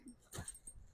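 A pet dog whimpers and whines in short yips, close by, eager to head out for a walk.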